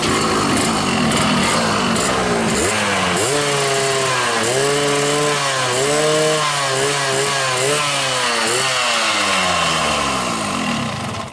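A Yamaha RX King two-stroke motorcycle runs loud and close on pure gasoline with no two-stroke oil, its raspy engine note rising and falling as the throttle is blipped.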